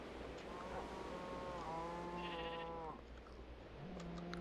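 A Minecraft cow lows in a drawn-out, wavering moo with stacked harmonics, followed by a second shorter call, over faint steady game background with no speech.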